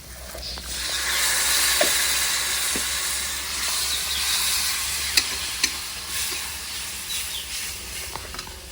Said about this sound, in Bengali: বাটি ধুয়ে একটু জল দিয়ে দেবো